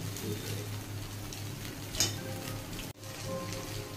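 Fried eggs and spices sizzle in a pan with a steady hiss and a brief utensil clink partway through, the frying sound continuous and close.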